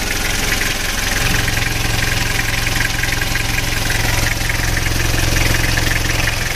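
Toyota Kijang diesel engine with a compression leak idling close by, a loud, steady, rough chugging drone with a rapid knocking pulse and vibration, no talking.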